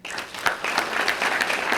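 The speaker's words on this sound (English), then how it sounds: "Let's give them a round of applause." A crowd at a Lorain Schools alumni association induction event bursts into applause, with dense hall clapping that rises quickly after a brief pause and continues steadily.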